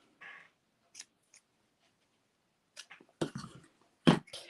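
Scissors make a few sharp, separate snips while trimming the end of a soft ribbon bow on a handmade card, close and crisp with quiet gaps between cuts.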